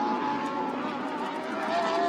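A Lamborghini Super Trofeo race car, number 77, in a 2019 race at Fuji, screams into a corner before the chicane, its engine a loud, steady high-pitched howl held close throughout with a slight pitch shift.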